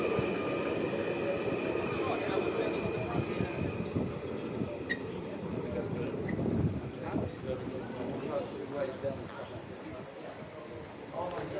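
A train on Perth's Airport Line rumbles steadily along the rails toward a siding, close by, with low rolling noise and occasional clanks, under continuous talk.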